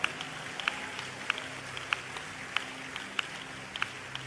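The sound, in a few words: church congregation hand clap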